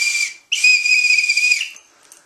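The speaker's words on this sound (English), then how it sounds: "Got a whistle in case I get stuck." A loud, shrill whistle is blown up close in two blasts, a short one then a longer sustained tone of about a second, fading out afterward.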